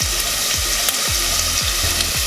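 Chicken stew sautés with a seasoning blend in a pot, making a loud, close frying hiss. A spoon scrapes the pot in a repeated rhythm of low knocks. No voices.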